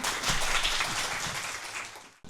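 A seminar audience at a brain imaging colloquium gives warm applause welcoming Professor Robert Leinhardt, with dense, even clapping that fades out and then stops abruptly.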